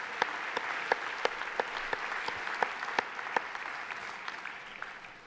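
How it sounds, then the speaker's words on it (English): Audience applause for medal recipients at a law school awards ceremony, steady clapping from a crowd with a few sharper nearby claps standing out, fading slightly toward the end. "Join me in applauding them."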